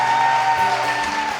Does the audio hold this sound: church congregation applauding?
yes